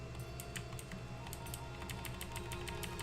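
Typing on a mechanical keyboard, steady rapid clacking keystrokes, faint and close, alone over a low hum of game background sound.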